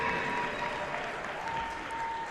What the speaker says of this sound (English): a very friendly Team AmeriKick crowd as they receive an outstanding response from the crowd